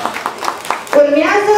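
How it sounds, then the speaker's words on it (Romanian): Children's group in a kindergarten class clapping in a quick run of sharp, evenly spaced claps, followed by a voice rising over the end of the applause. "Aplauze!"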